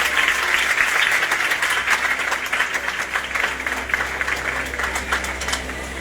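A church congregation claps loudly and continuously for Jesus, a thick wash of many hands at close range holding steady for several seconds, slightly easing toward the end.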